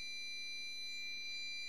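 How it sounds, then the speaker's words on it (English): A GE Concord 4 home security alarm panel sounds an intrusion alarm after a hardwired motion detector is tripped. It gives a steady, high-pitched electronic tone with no siren attached, continuous and moderately quiet. "Oh, intrusion alarm,"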